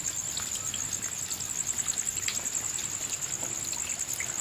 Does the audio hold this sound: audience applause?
no